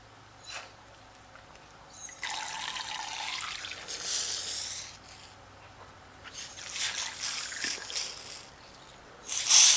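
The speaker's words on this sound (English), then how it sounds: "Once you get some water in there, shake it around real good." Water sloshes and rattles inside a blown-out eggshell as it is shaken in several close, bursty rounds, separated by brief quiet pauses, with a sharp splash at the very end.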